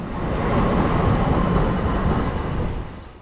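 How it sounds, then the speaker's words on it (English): Amtrak train 96 rumbles past close by with an ACS-64 electric locomotive pushing at the rear, a loud, steady roar of wheels and cars that eases off toward the end. "bringing up the rear of Amtrak 96 was ACS 64 670"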